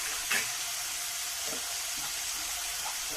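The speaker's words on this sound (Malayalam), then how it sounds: "എന്നിട്ട് ഒന്നും കൂടി നമുക്ക് ഫ്രൈ ചെയ്യാം" Ground chilli and coriander powder frying in oil in a pan for a tomato varutharacha curry, a steady close sizzle with faint stirring scrapes and no talk.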